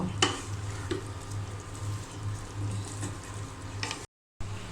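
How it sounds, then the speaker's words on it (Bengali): Potatoes fry in a pan with a spice mixture while being stirred, giving a steady close sizzle with scraping utensil strokes and a few clinks, cut by a brief silent gap near the end. "এখন আমি দিয়ে দিব আলু। আলু এখন আমি ভালো করে কষিয়ে নিব।"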